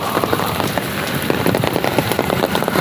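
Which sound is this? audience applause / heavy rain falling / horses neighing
heavy rain falling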